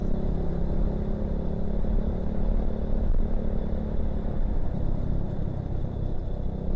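A Honda Supra 100 motorcycle cruises along city streets in Semarang at midnight, its small engine droning in a steady low rumble with road and wind noise throughout, no talking.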